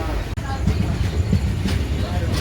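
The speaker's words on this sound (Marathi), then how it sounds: "चला ट्रेन आपली बरोबर टायमर सुटली आहे" Mahalaxmi Express passenger train pulling out of Kolhapur station on its run to Mumbai, a steady broadband rumble of rolling wagons with faint rail clatter, heard from inside the coach, with a brief sharp click near the start.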